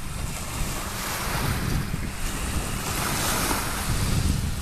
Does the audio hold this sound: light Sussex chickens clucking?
no